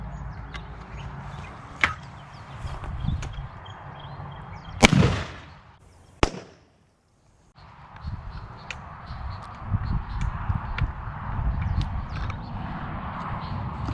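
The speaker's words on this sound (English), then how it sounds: "I'm going to shoot it and I'm going to see how it's going to perform" A shotgun loaded with 7.5 shot fires at a Trustfire T4 flashlight about 5 meters away, one sharp, loud blast outdoors followed by a second sharp crack, with quiet ambient noise before and after.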